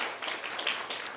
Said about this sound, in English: I want to just give them a round of applause